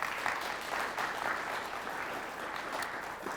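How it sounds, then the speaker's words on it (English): Audience applause for the Marshall Mustangs youth quiz team after a close game against the Holy Family Crusaders, a steady, fairly faint wash of clapping that holds evenly through the whole moment. "How about a round of applause for them?"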